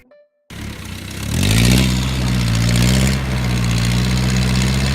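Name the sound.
engine revving on a rusty homemade vehicle test ride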